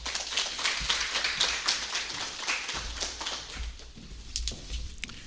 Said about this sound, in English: Please give Mr. Guzmán a round of applause.